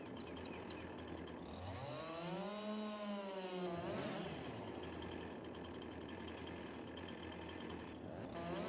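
A chainsaw in the video game Farming Simulator 22 revs up with a rising and falling whine, then settles into a steady, close buzzing drone as it keeps cutting.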